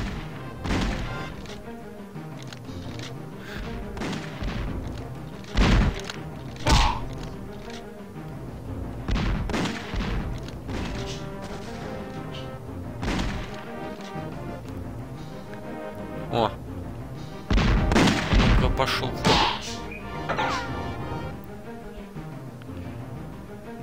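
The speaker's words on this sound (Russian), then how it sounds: "И дощечки взрываются." Crates and wooden planks blow apart in the Nintendo 64 Superman game, with several sharp bursts around the middle and a cluster near the end, set against constant game music and a voice talking throughout.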